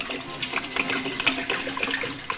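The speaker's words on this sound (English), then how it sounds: "I'm going to add some more fresh cold water." Fresh cold water pours from a tap into a pot of drained lima or butter beans, a steady close splashing rush that runs without a break for the whole moment.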